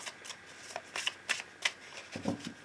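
Tarot cards are shuffled and cut for a love reading, with crisp riffling flutters and sharp taps in quick bursts, close and fairly quiet, followed by a softer rustle.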